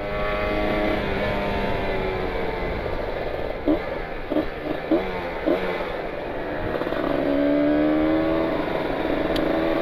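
Kawasaki Ninja 150 RR motorcycle with a worn two-stroke engine and aftermarket exhaust, held at full throttle on a Sunday group ride near Ciwidey: a sustained high engine drone with rising pitch, a few sharp blips midway, steady and fairly loud.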